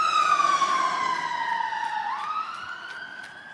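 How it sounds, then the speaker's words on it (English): A loud, clear ambulance siren in a video game wails in long falling and rising sweeps, with a bright harmonic tone, heard on its own with no talking. "there's the ambulance"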